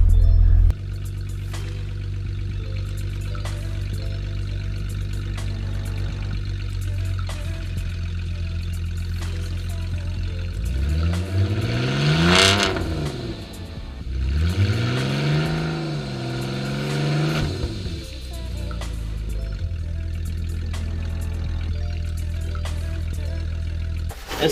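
Engine of a 2004 BMW 320i farm paddock car revving hard twice, rising and falling in pitch over a steady idle as the wheels spin up, loud and close with no talking.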